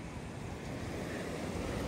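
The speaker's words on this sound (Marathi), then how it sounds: "हे झरा आहेत ना सगळं त्याचंच पाणी येतंय." Steady rushing water from a stream fed by the Dhodhani waterfall, a continuous broadband wash that stays even and fairly faint with no voices.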